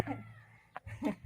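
A chicken gives two short clucks close by, separated by a brief pause, over quiet background noise.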